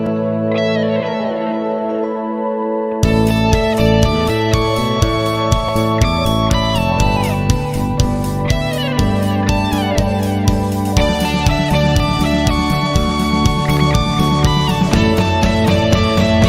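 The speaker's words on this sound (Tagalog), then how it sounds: "Pero iba pa rin yung tunog ng gitara." A guitar plays an intro in its own arrangement, soaked in chorus, reverb and distortion effects, entering after a soft opening and continuing with a full band behind it.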